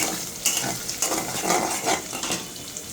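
Maggi noodles seasoned with soy sauce frying in a pan, a close crackling sizzle broken by a few quick stirring scrapes over less than three seconds.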